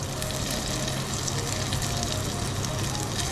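Bacon frying in a pan for amatriciana, browned until slightly charred, giving a steady close crackling sizzle with dense popping that holds even throughout.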